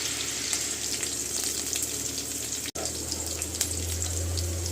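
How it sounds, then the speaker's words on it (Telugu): Green chillies and cumin seeds frying in hot oil, a steady broad sizzle throughout with a brief sharp break midway and a low hum rising near the end. "ఇదిగోండి ఆయిల్ వేసి జీలకర్ర వేసేసిన. వెంటనే పచ్చిమిర్చి కూడా వేసేస్తున్నా."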